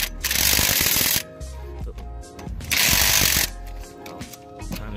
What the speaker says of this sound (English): I'm using electric ratchet, but you can also use your hand tools